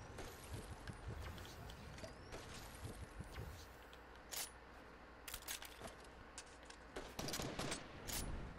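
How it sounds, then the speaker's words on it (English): Gunfire in a Fortnite season 8 squads match, crackling in sharp bursts and scattered single shots over a busy game backdrop, with louder clustered volleys toward the end. "Getting shot from the right."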